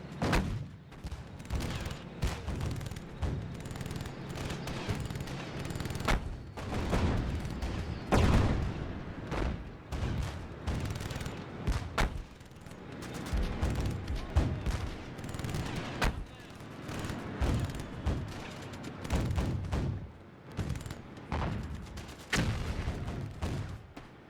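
Dense gunfire and artillery from a Theatre of War 2 battle at the Kasserine Pass in Africa, 1943, with British forces: a continuous busy bed of shots, bursts and booms, loud throughout with repeated sharp cracks.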